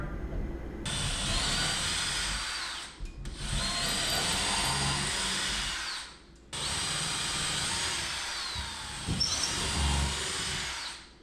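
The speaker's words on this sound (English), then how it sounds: "I'm going to pre-drill some holes here to where my studs are." A power drill pre-drills holes into wall studs during a DIY electric fireplace and slat wall build, running in three loud, sustained bursts with short pauses between them and no talking.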